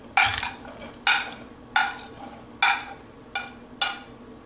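A spoon stirs a thick kadhi pakora batter of gram flour with potato, onion, chilli, coriander and garlic in a bowl, six distinct scraping strokes at a steady pace, close and alone without talk.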